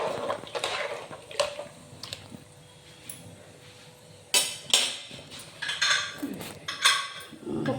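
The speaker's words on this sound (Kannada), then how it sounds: "ಕುಕ್ಕರ್ ಮುಚ್ಚ." Metal clanks and knocks of a pressure cooker lid being shut over carrot rice in a home kitchen, a few sharp, close hits in the last half after quieter handling noise.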